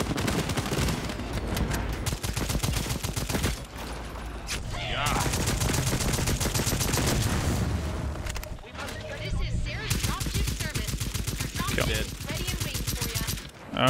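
Rapid gunfire from the sci-fi shooter Second Extinction, played on Xbox Series X: dense, sustained automatic bursts that run almost without a break, with loud booming impacts mixed in and voices talking over the din.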